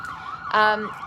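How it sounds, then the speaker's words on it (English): A wailing emergency siren rises briefly and loudly for under a second, standing out over a quieter background, then fades back. "Sorry for the sirens."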